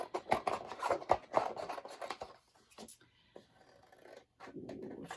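Paper scissors trim around small bits of card paper for fall cards, a run of quick snipping and rasping cuts up front that thins out to sparse faint snips, with a voice talking over part of it.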